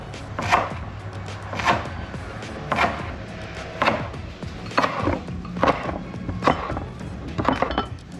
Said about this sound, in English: the rest I'm just gonna kind of roughly chop